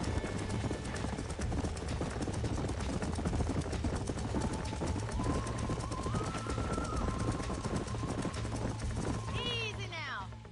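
Horse hooves galloping in the video game Red Dead Redemption, a dense, steady clip-clop rhythm that runs the whole time with a low hum beneath it, while voices talk and a horse whinnies briefly near the end.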